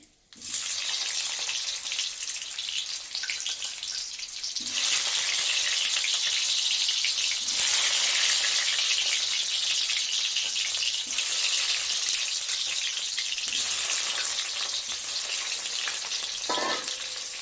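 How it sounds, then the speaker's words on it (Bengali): Steamed potato pieces fry in hot oil with a cumin and bay leaf tempering, giving a steady sizzle that swells louder after a few seconds and holds, with no voices. "তো আলুটা ভাজা হোক"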